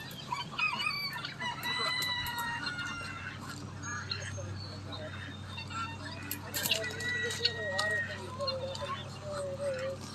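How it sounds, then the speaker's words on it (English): Chickens cluck and a rooster crows outdoors at feeding time among chickens and ducks, with scattered bird calls and a low steady hum beneath, while a person speaks now and then. "out there feeding all of the ducks and chickens"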